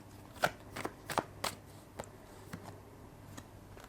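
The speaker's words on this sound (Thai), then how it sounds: "เดี๋ยวเรามาเปิดไพ่เพิ่มกันนะคะ" Tarot cards being shuffled, a series of crisp close riffles and taps at uneven intervals, fading toward the end, quiet with no talking.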